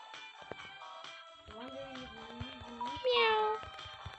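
A person imitates a cat's meow with a rising, wavering voice, a short vocal miaow near the microphone amid light background chatter while playing Roblox.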